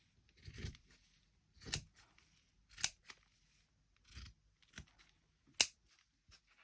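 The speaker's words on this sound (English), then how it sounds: "I'm going to cut this bit up." Scissors cutting paper for a junk journal: a series of crisp, separate snips, roughly six, spaced a second or so apart. Quiet and close, with no talking.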